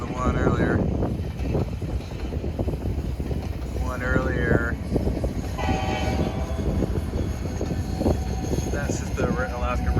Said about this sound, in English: That's just the regular Alaska Railroad train.